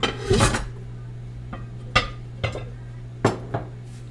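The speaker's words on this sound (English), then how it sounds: "So what I'm going to do is put this heavy lid up." A heavy lid comes off a pot of candied sweet potatoes with a close metallic scrape and clank, followed by several sharp clinks and taps of metal on cookware, with no talk.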